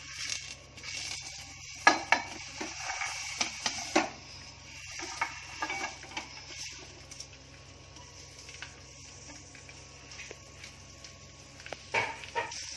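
Grated coconut and spices fry in a spoonful of oil in a pan for cashew nut masala curry. Faint sizzling sits under scattered clinks and scrapes of a stirring spoon against the pan, close by, with no talking.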